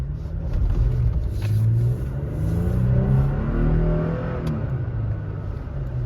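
A 2023 Toyota Tacoma SR5 4x4 pickup engine revs while driving, a steady, close rumbling drone with rising and falling pitch as the truck accelerates, no voices over it.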